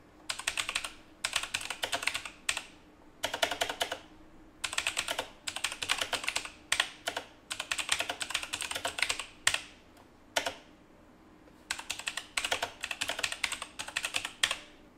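Typing on a Razer BlackWidow Elite mechanical keyboard: close, loud bursts of rapid clacking keystrokes separated by short pauses, with no voices.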